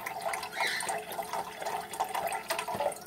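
Campbell's beef broth pours from its box into a pot, a steady trickling, splashing stream of liquid heard close up.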